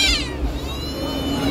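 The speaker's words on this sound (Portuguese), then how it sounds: "Ei, gato, tem um gatinho aqui" A kitten meows in a busy outdoor setting, giving a clear high, wavering cry that lasts through most of the moment, close by and fairly loud over a background murmur of voices.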